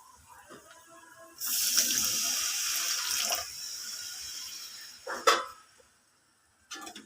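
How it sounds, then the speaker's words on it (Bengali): A little water is poured into a fish curry as a fairly close, steady hissing gush lasting about two seconds, followed by a few brief splashes and trickles and a short quiet spell. "তো কষানোর জন্য সামান্য পরিমাণ পানি দিয়ে দেব এখন"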